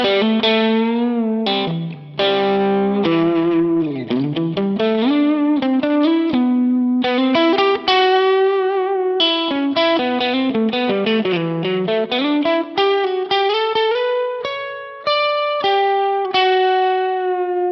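Distorted Stratocaster electric guitar playing a melodic lead with sliding bends and sustained notes, loud and continuous, with brief pauses between phrases.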